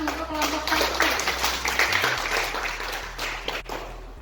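Classroom applause for a presenting student group in a biology class, a moderate patter of clapping hands that runs throughout while voices talk over it.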